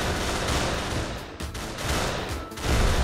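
Gunfire in the Pummel Party party game, heard as dense, loud bursts of rapid shots in a continuous volley with brief dips between salvos.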